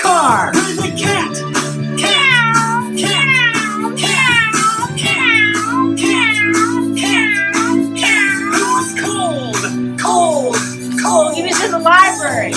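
A cat meows repeatedly in quick succession, a run of clear, close, rising-and-falling cries over a steady background of music or tones.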